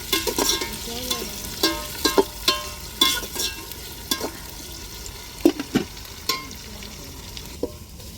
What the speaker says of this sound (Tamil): இப்போ தக்காளியும் மிளகாயும் சேர்த்துருவோம் தக்காளி நல்லா எண்ணெயில் வதங்கட்டும்